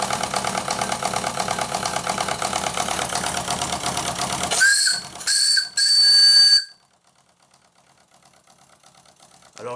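A Stuart D10 live steam water pump running at about 2 bar, giving a steady rhythmic chuffing hiss that swells into louder bursts of steam, then cuts off to near silence.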